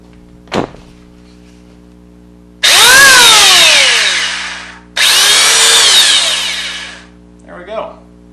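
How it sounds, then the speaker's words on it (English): An electric hand planer, just repaired, runs in two loud, close bursts of a few seconds each, winding up to a high whine and spinning down, with short clicks and handling noises before and after. "Now I got a working planer again."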